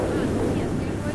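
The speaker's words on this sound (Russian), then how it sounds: "И тут ветер, поэтому приходится микрофончик держать в руке" Wind blowing on Phi Phi Island, Thailand, near a beach entrance, a steady, close, low rumbling buffet against the microphone throughout a short moment.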